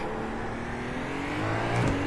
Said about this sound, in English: a big old twin turbo V6.